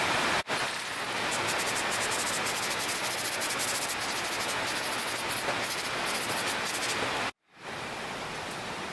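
Aerosol rattle can spraying base coat paint into the tight engine bay of a Toyota MR2, a near, steady hiss that runs for several seconds, breaks off briefly, then starts again.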